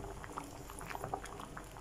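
Moringa (malunggay) leaves boiling in a pot, with a steady, soft bubbling and small popping blips close by, fairly quiet throughout.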